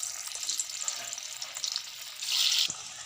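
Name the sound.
lentil cake pieces (dhoka) dropped into hot oil and frying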